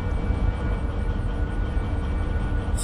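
Locomotive running in Derail Valley, a heavy freight train game, with a steady low rumble and mechanical drone holding at a moderate, even level throughout.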